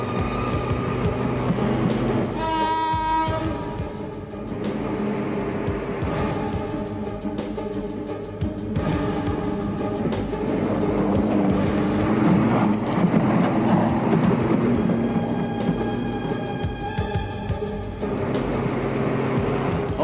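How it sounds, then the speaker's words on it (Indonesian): A train runs past during a tense chase scene in an old Indonesian action film, a loud continuous mechanical rumble with a tonal hum that stays steady throughout, mixed with dramatic film sound. "Oke, Johnny, kejar kereta itu."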